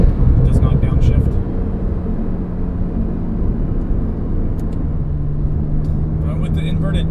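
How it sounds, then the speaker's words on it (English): COBB-tuned Porsche PDK car engine accelerating at full throttle in third gear, a loud low droning roar that rises in pitch as it pulls through the gear, heard from inside the car. "Let's kind of enjoy the engine tones here."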